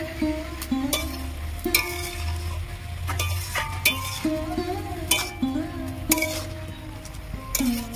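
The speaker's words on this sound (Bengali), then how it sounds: "সব জায়গায় ভালো করে নাড়াচাড়া করে নেব।" Cabbage cooking with fish head in a pan, stirred with repeated scraping and clinking strokes of a spoon against metal over a low bubbling sizzle and a steady hum, close by, with no one talking.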